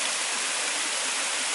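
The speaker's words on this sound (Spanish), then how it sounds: "en la cascada del Canello" Pingón del Caneyu waterfall in Piloña, Asturias, a small cascade with modest flow dropping into a pool close to a road, gives a steady, broadband rushing roar that is close and continuous, with no voices.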